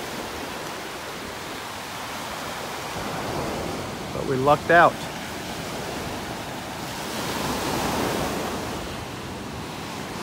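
Ocean waves breaking and washing onto a beach in North Naples, Florida, with a steady, loud roar that swells toward the end; someone speaks briefly partway through.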